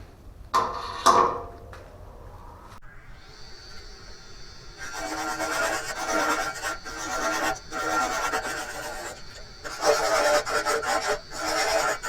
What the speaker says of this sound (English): Let me square these ends and we'll sand it.